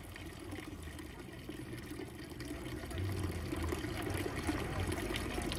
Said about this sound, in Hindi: ये देखो ये पानी घूम रहा है एंटी क्लॉकवाइज।